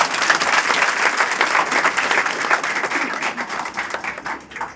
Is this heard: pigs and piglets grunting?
no